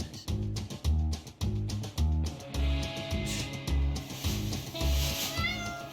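A cat meows repeatedly in a steady, regular rhythm of short, close, fairly loud calls, roughly nine in a row, with a brief hiss of background noise toward the end.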